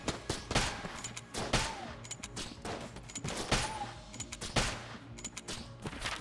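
Pistol shots in the top-down shooter game Enter The Gungeon crack out in quick, uneven bursts, sharp and close, with overlapping impact noises through the roughly six-second stretch.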